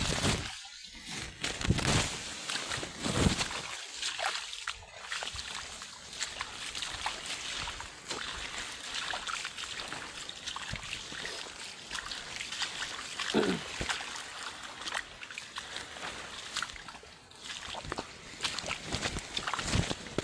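Rainwater runs down from higher ground into a waterlogged crop field, a steady rushing flow with splashy bursts and trickles that continues throughout.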